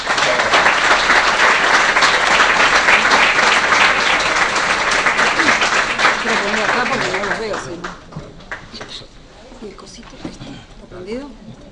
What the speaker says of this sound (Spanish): Les pido un fuerte aplauso para recibirla.